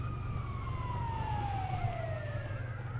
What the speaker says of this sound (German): Achtung, Krankenwagen fährt mitten auf der Straße vorbei.